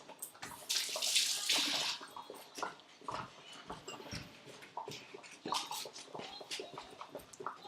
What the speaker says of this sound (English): I'm going to wash my eggy schmeggy hands.